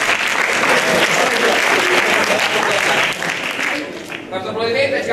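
A theatre audience at a school performance breaks into loud, dense applause that carries for about three seconds, then thins and fades as a voice begins speaking over the dwindling claps.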